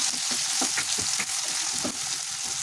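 Chopped tomato and rock salt are stirred in a frying pan for wheat rava upma. A steady close sizzle runs throughout, with soft scraping strokes of the spoon and no talk.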